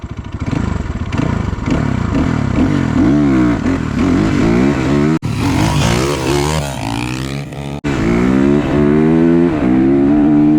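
Two motorcycles, a 31 hp Geon GNS 300R and a 29 hp Loncin LX 300 GL, race off the line with loud, close engine roars rising and falling through gear changes, two brief cut-offs in the middle.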